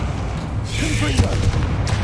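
A Confringo spell blast in the video game Hogwarts Legacy lands as a single deep, booming burst with a whooshing tail, loud and close, mixed with a voice and game background sound.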